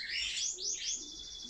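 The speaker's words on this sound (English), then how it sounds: "That's how Doofus says hello to this little bird." A small pet bird chirps in a home, a quick series of bright, rising tweets at close range, loud and clear with no talking over them.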